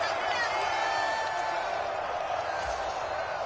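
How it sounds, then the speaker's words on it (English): A stadium crowd at a football game roars continuously and loudly, a dense wash of cheering and shouting that holds steady throughout without letup. "This crowd doing all they can."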